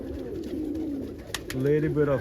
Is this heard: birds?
yes